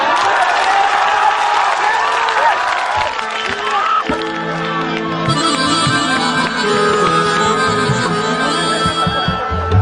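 Audience applause and cheering at a live Bhojpuri devotional stage show. The loud, dense crowd noise runs throughout, with music and a voice over it.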